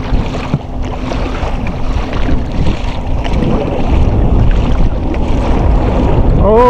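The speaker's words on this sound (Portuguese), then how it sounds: "E lá vem um jet para dar mais onda ainda." A jet ski approaches on a river during a paddling trip, its low engine rumble slowly swelling beneath gusty wind buffeting and moving water.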